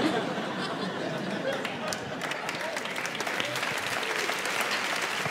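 Audience applause after a stand-up comedy bit, dense and steady clapping from a crowd that fills the room, with some chatter mixed in.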